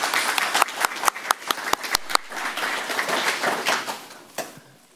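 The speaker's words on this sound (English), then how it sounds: "the applause is..." An audience applauds indoors, starting with sharp separate claps that merge into a steady wash of clapping and then fade out.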